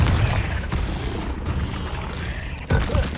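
A Confringo blasting spell exploding in the video game Hogwarts Legacy: a deep, booming rumble that sustains loudly, with sharp percussive hits near the start and again near the end.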